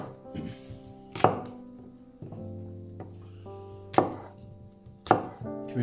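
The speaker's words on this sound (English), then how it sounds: "Right, so chop the apple." Knife chopping an apple on a board, three sharp close thumps spaced a couple of seconds apart over a quiet room with faint lingering tones.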